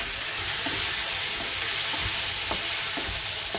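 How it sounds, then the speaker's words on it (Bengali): Chunks of cut potato fry in hot oil in a pan, a loud, constant sizzle with occasional soft scrapes of a spatula stirring, close up and without talk. "দিয়ে একটু আলুটা ভেজে ভাজা ভাজা করে নেব।"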